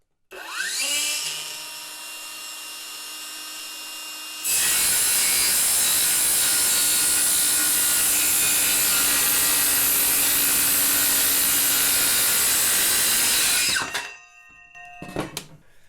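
A cordless brushless Peugeot EnergySaw-C18VBL circular saw spins up, then bites into wood with a loud, steady cutting roar for about ten seconds before winding down to silence.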